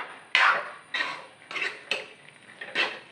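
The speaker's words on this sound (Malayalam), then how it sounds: "നന്നായിട്ട് ഇളക്കി കൊടുക്കണം." Pepper chicken stirred in a pan over a low flame, with a spoon scraping and clattering against the metal in about six distinct strokes, close and fairly loud, with no talking.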